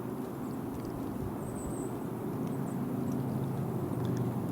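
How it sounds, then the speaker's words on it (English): Constant dull low roar rising from a valley below a mountain summit, a steady distant rumble like far-off traffic or aircraft that holds even and unbroken throughout, with no voices. "It's just a constant dull roar from the valley below."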